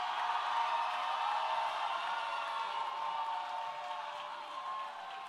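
Church congregation at a tent revival clapping and cheering loudly, a dense, steady wash of applause and crowd noise that holds for several seconds with no break.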